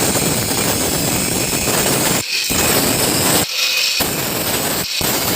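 Harsh, continuous hand-sawing through the metal exhaust pipe of a TDR 125 motorcycle, a loud gritty rasp that stops briefly three times before resuming, close up with no voices.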